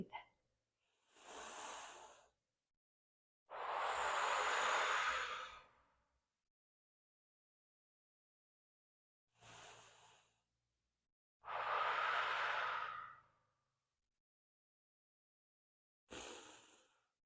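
Deep yoga breaths come close and clear, five long inhales and exhales spaced a few seconds apart with silence between them and no talking.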